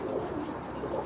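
Several pigeons in a loft coo softly and steadily, a low continuous murmur of overlapping calls with no speech over it.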